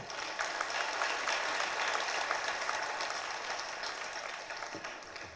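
An audience claps steadily throughout a Jain sermon by Acharya Vidyasagar in Shirpur, a sustained, moderately distant patter of many hands with no voice over it.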